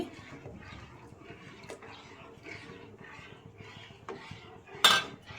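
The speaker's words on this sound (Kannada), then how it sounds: "ಈ ರೀತಿ ಕೈ ಬಿಡದೆ ನೀಟಾಗಿ ತಿರುಗಿಸ್ಕೊಳ್ಳಿ" A spoon stirs a thickening cornflour and carrot sweet mixture in a pan over low heat, with soft rhythmic scraping strokes and a sharp metallic clink near the end.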